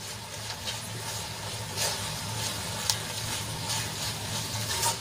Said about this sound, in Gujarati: મસાલો સરસ રીતે ભીંડામાં આપણે મિક્સ કરી લઈશું ગેસની આંચ આપણે ધીમી રાખીએ છીએ